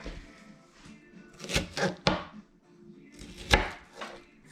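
A knife trims a piece off food on a cutting board, giving several sharp, close chopping thunks in uneven bursts against quiet kitchen background.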